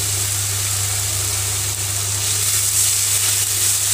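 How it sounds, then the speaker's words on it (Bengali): Tomato paste frying with spice masala in a pan for Bengali katla fish kalia curry, a steady broad sizzle running throughout under a low constant hum, close and even in loudness with no talk. "ভালো করে কষিয়ে নেব টমেটোটা।"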